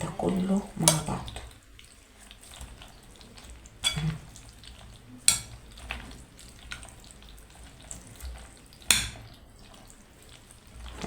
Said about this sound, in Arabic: هقلب الكلام ده كله مع بعض